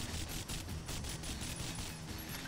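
Rapid bursts of automatic gunfire from a top-down alien-shooting game, a continuous loud clatter of overlapping shots and explosions with no pause.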